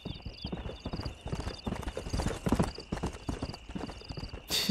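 A stallion in the Western video game Red Dead Redemption clip-clops steadily at close range through most of the moment, its hoofbeats repeating evenly before a short whinny near the end, with game ambience underneath and no talk.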